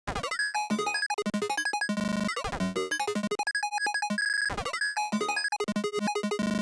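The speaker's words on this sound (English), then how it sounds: "that's just an ARP with a glitch effect" A rapid electronic arpeggio of bright synth tones, chopped and stuttered by glitchy cuts and squeaky digital artifacts, playing continuously.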